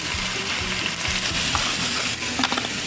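Dried red chilies frying in hot oil as spices go in for butter chicken, giving a dense, loud, continuous sizzle close up with light stirring taps and no voices.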